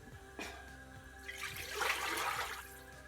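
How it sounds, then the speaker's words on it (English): Stock is poured into a cooking pot on the stove for bitter-leaf soup, giving a steady splashing, gurgling liquid rush that swells in the middle and fades out, heard nearby and alone. "Here's the stock I'll be adding to the pot."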